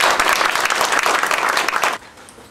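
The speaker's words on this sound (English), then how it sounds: "I think he deserves great satisfaction with a big hand clap." A seminar audience breaks into loud, dense applause that lasts about two seconds, then cuts off sharply into quiet room noise.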